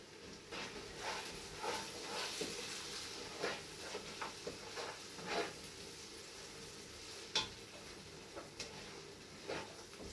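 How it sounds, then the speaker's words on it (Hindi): Fresh chili and tomato hit hot oil in a lamb shank curry pan, a faint, steady sizzle with scattered soft pops and crackles. "अब ये जो है फ्रेश चिली और टमाटर भी डाल देते हैं।"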